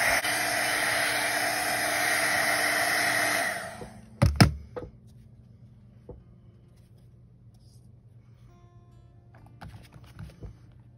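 A heat tool blows a loud, steady hiss over stamping foam for about four seconds, then cuts off, leaving a couple of sharp clunks and quiet handling noises.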